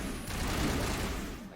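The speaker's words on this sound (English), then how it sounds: "You're on assault rifle right now." Assault rifle fire in the sci-fi shooter Mass Effect, a dense continuous burst of rapid shots that blurs into a steady crackling roar lasting over a second, fairly loud and close.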